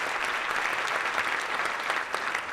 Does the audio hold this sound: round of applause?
yes